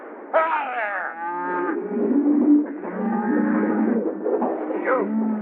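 Cattle mooing in a rural setting, several long drawn-out lowing calls in close succession, loud and near, with no talk over them.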